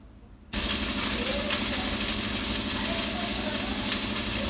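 Onion and garlic drop into a hot pan with hing, setting off a sudden loud sizzle that stays steady and close, a dense crackling hiss with faint stirring.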